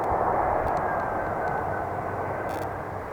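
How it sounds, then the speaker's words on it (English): EasyJet Airbus A320-200 coming in to land at Manchester Airport, a loud, broad jet roar heard from nearby that holds steady and then eases slightly, with no voices. "This is an EasyJet Airbus A320-200."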